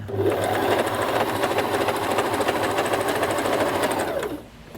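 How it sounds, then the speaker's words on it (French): An electric sewing machine stitches stage dresses, a loud rapid steady mechanical whirring and ticking running without pause for several seconds before stopping abruptly. "je suis en train de faire les robes de... d'Akouma, et de chanteuses"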